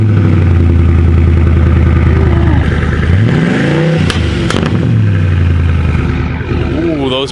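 A 5.4 engine in a project car fires up and revs loudly, its pitch climbing and falling in sweeps, with a few sharp exhaust pops cracking through near the end.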